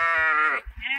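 A lamb separated from its mother gives one loud, close, wavering bleat, followed by a shorter second bleat, heard alone in open country.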